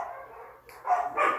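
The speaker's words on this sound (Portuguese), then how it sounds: "quando passam cachorros aqui na frente da casa" Dogs bark from the street in front of a house in a residential condominium, a few short yapping barks in quick succession at moderate distance with no talk over them.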